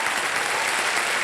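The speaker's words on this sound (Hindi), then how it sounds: "एक बार फिर जोरदार तालियां" Dense, steady studio audience applause for contestants on the KBC quiz show stage, filling the whole short moment at an even, close level with no pauses.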